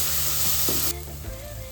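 Ginger, garlic, tomato and garam masala sauté in hot oil for a prawn biryani, with a close, steady sizzle that suddenly softens partway through, then a faint stirring scrape.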